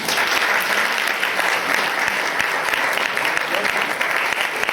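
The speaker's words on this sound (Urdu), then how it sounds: "تالیاں بجائیں" Steady, dense applause from a church congregation at a Sunday service marking a golden jubilee, loud and continuous throughout with no break.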